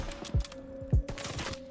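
Gunfire in the video game Call of Duty crackles in quick bursts, with two heavier booming shots standing out among rapid, fairly close shots.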